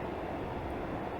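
Class 142 diesel railbus in Train Simulator 2021 on the Manchester Oxford Road to Warrington Central route, a brief steady low engine and rolling rumble with no variation.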